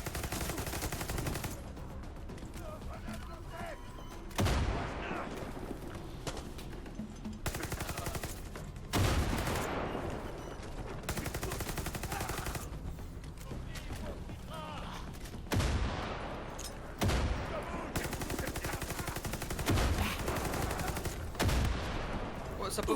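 Rifle gunfire in the first-person shooter Far Cry 6, loud repeated bursts and single shots cracking over a dense game soundscape, with players talking over the action.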